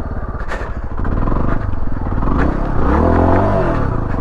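A dirt bike engine runs loud and close while riding, a rough, pulsing buzz that climbs and dips as the throttle changes, with some clatter and scraping mixed in.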